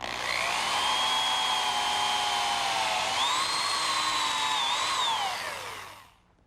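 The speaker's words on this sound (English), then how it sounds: "Next, I'll drill some holes to secure the joint with some dowel pins." A power drill whines steadily at high speed while drilling dowel-pin holes in wood, its pitch dipping and rising under load before spinning down to silence.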